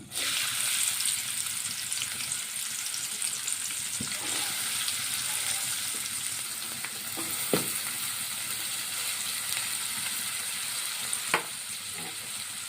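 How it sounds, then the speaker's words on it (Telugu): Onions and green chillies frying in hot oil with mustard seeds, urad dal, hing and curry leaves for a raw banana curry, a steady close sizzle with occasional scraping clicks of a spoon stirring. "ఉల్లిపాయలు, పచ్చిమిర్చి కొంచెం వేసుకునిద్దాం. ఆయిల్లో వేసుకుందాం."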